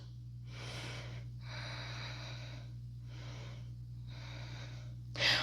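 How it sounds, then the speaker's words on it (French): Slow, deep breathing during the cobra pose in a back-focused yoga session, several long soft inhales and exhales heard close and quiet over a steady low hum, with a sharper breath at the very end. "On prend 2 respirations."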